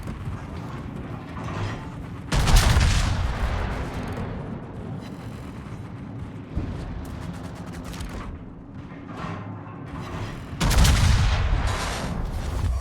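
A battleship's main-gun salvo in World of Warships, heavy booming blasts with rumbling tails, loud and close, repeating at intervals over a low roar.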